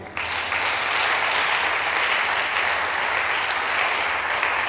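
A church congregation bursts into sustained applause, a dense, even wash of many clapping hands that holds steady to the end.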